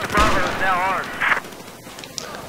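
Gunfire in the video game Battlefield 4, Naval Strike multiplayer, from a hip-fired gun with a laser sight. A short, sharp crack follows a stretch of talk, then quieter scattered battle noise trails off.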